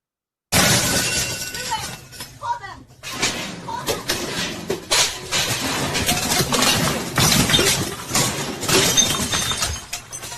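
Glass shatters and crashes repeatedly inside a Dollar General store being smashed up, a loud, dense run of breaking and smashing bursts with door and cupboard bangs mixed in, continuing for about ten seconds.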